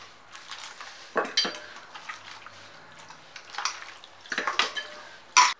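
Mutton pieces being moved into a pressure cooker, with scattered clinks and scrapes of a metal utensil against the pot in short bursts, close up, between quiet pauses and ending in a sharper clatter.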